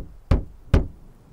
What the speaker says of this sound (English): the afternoon was again broken by the banging of three knocks.